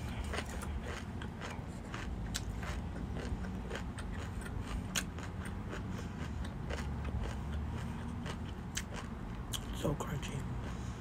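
Crunchy chewing of broccoli salad over a steady low background rumble, with many sharp crackling bites scattered throughout and some speech-like sound in the mix.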